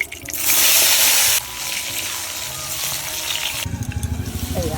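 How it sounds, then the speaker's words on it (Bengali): Potatoes frying in a pan in a Bangladeshi home kitchen, a loud burst of sizzling hiss as they hit the oil, then steady crackling with faint scraping and clatter near the end. "আলু ভাজে নেবো।"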